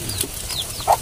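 A native chicken held before slaughter lets out a short, close cluck amid light handling noise.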